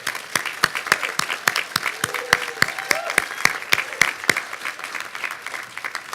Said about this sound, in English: I think we should all give him a huge round of applause